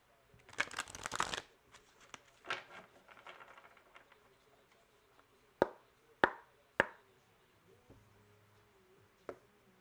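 Tarot cards are shuffled in a quick riffle burst, followed by a few sharp taps and slaps of cards being set down in a quiet room.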